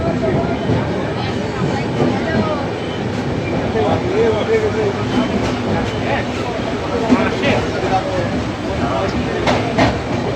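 Constant rattling rumble of a moving Indian local passenger train between NJP and Sealdah, heard from inside a general-class carriage, with people's voices mixed into the noise.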